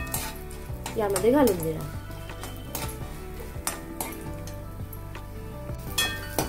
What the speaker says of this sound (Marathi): याच्यामध्येच मी हे बदामाचे तुकडे आणि काजूचे तुकडे असे थोडेसे पटकन तळून